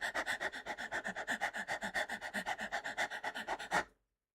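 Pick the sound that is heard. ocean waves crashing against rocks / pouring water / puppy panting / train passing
puppy panting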